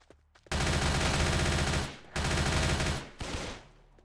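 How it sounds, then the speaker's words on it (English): Machine gun fire in a zombie video game: three loud sustained bursts of rapid automatic shots, the first about one and a half seconds long and the later two shorter, separated by brief gaps and heard alone. "This machine gun sucks!"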